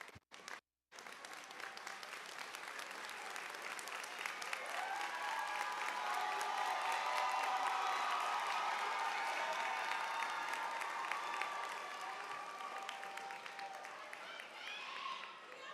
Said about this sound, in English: please stand and give another round of applause to your families